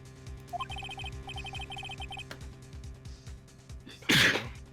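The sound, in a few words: Gumshoe sneezing in the video game Phoenix Wright: Ace Attorney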